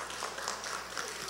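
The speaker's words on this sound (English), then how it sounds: "Please give Sister Ricketts another round of applause." Congregation at a church service applauding, a soft, even wash of many hands clapping with no single claps standing out.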